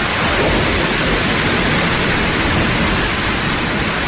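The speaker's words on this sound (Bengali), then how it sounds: "তখন বৃষ্টি মুষলধারে পড়তে আরম্ভ করেছে।" Heavy rain pours in a steady, dense roar from start to finish, with a low rumble that may be distant thunder underneath and no voices present.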